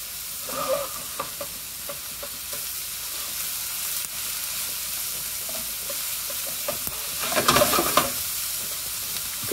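Mushrooms sizzle steadily in a pan for spinach shakshuka, a constant frying hiss with occasional stirring scrapes and a louder burst near the end, no voices.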